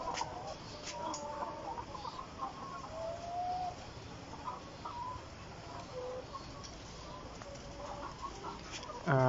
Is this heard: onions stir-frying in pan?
no